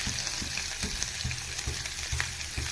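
Carrots sautéing in a pan for Indian carrot chutney give off a steady close sizzle and frying crackle, with soft stirring scrapes recurring through the short stretch and no talk.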